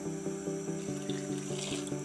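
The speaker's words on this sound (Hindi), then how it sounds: "मैं इसके अंदर तकरीबन 2 गिलास पानी के मज़ीद ऐड करूँगी।" Water poured from a glass into kadhi pakora batter, a steady running pour with a faint repeating ripple, close and fairly quiet, with no talking.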